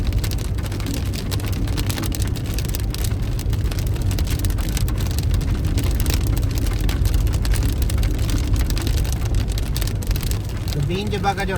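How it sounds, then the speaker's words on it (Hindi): Dense, continuous hiss of heavy rain pours down without a break, loud and close, with a low rumble beneath it, in Swat Valley, Pakistan, just after crossing a river. "बारिश जो है वो तेज स्टार्ट हो गई है।"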